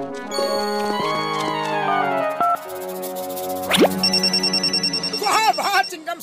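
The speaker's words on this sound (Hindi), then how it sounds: "आपने रिबन काटा नहीं और हेल्पलाइन की बेल बजी" A bright electronic telephone ring with warbling tones and chimes, loud and close, mixed with musical effects and swooping sounds in a cartoon.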